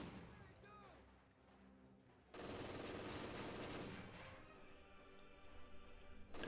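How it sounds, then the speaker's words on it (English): Gunfire from an MG42 machine gun in Company of Heroes 2 opens up in a dense, continuous burst of rapid shots over a busy battlefield of distant artillery and explosions, fairly loud and sustained. "The MG42 down south is opening up on whatever it can."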